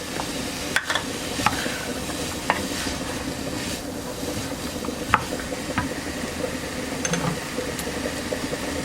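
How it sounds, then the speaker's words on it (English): Frozen sliced mushrooms sauté in a skillet with a steady low sizzle, and a utensil clicks and scrapes the pan in scattered sharp taps. "And let that saute just a teeny weeny bit."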